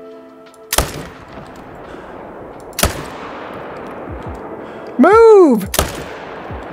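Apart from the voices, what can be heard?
rifle gunshots while hunting black bears in Call of the Wild video game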